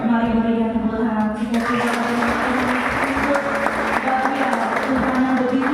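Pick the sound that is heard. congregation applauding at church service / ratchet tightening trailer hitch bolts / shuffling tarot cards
congregation applauding at church service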